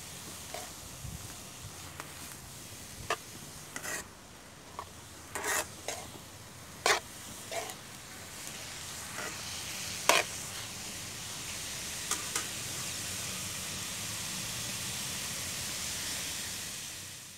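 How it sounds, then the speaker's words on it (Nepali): Grated carrots for carrot halwa fry in a pan, with a soft, constant sizzle under scattered sharp scraping strokes from stirring. "2-3 मिनट जति चाहिँ म यो गाजरलाई भुट्छु"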